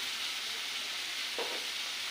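Chickpeas for chana masala fry steadily in a pan after a pinch of sugar is added, giving a constant close hiss of sizzling oil with one brief stirring scrape partway through.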